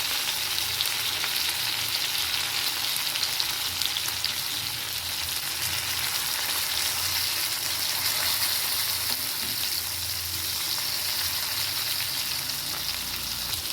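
Surmai (kingfish) fillets fry steadily in a hot pan, a dense, continuous crackling sizzle at close range that holds an even level throughout with no voices.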